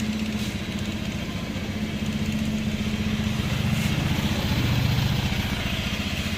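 A Honda Beat FI V2 scooter engine idles close by, a steady loud mechanical putter with an even pulsing rhythm that holds throughout, no one speaking.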